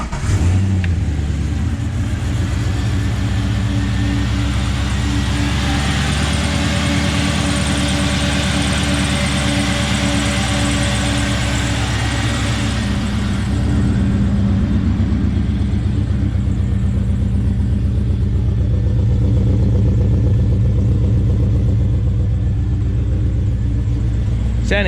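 Budget LS1-powered GU Nissan Patrol running after sitting for a few days, a loud steady engine rumble with a rise in revs early on before settling, close and continuous with no talking.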